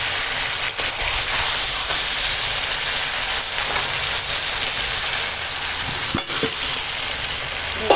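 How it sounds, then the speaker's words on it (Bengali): Chicken and new potatoes with skins being sautéed together in a pan for a chicken curry, with a steady, dense sizzle throughout, a few soft stirring scrapes, and no talking. "মাংসটা কষাচ্ছি এবার আলুটা দিয়ে দেবো আলুটা দিয়ে আর একসঙ্গে কষাই"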